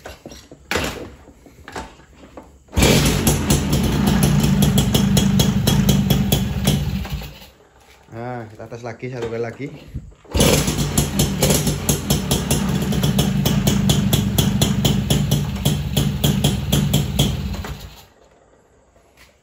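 An old 1991 motorcycle engine starts and runs at a loud, rough idle. It cuts out briefly while a person speaks, then fires up again and idles until it stops near the end.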